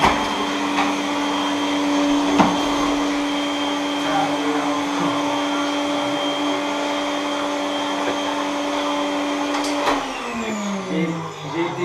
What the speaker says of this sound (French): J'ai été désigné pour passer l'aspirateur